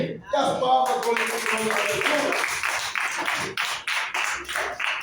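A church congregation claps in a steady, lively stream of overlapping handclaps, close and fairly loud, with voices mixed in beneath.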